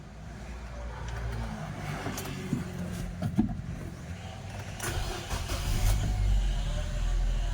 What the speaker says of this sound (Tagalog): Start na natin yung engine.